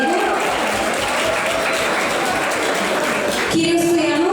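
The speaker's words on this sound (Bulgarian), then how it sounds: "Иван Иванов, аплодисменти за него." Audience applause at a school concert for a student band, a dense steady clapping crowd filling the hall throughout, with a brief rise in intensity near the end.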